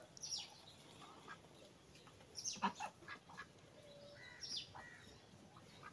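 Several honking goose calls, a few short bursts spread across the clip, moderately near, over a quiet outdoor background.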